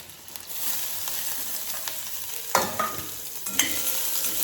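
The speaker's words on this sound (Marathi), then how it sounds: "हा कांदा आपल्याला ब्राऊन होईपर्यंत आपल्याला असा परतून घ्यायचा आहे" Chopped onion sautés in hot oil with cumin, mustard seeds and ginger-garlic paste for a Konkan banana flower dish, a loud steady close sizzle broken by a few sharper scraping stirs of a spoon against the pan.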